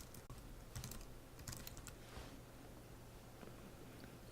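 Soft, quick keystrokes on a computer keyboard come in a short burst of clicks and then taper off, close and quiet in a still room.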